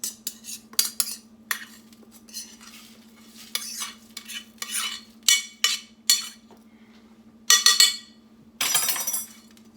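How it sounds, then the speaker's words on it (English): Rice poured and stirred in a pan: a series of short, crisp rattling bursts and clinks against the metal, separated by pauses, over a faint steady hum. "I'm going to put my rice in here like this. See, in my pan."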